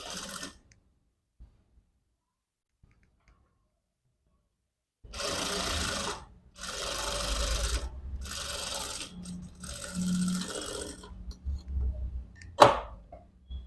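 Sewing machine stitching a folded hem on fabric, part of sewing a princess-model blouse with elbow sleeves: several short bursts of close stitching separated by pauses, after a quiet stretch, with a sharp click near the end.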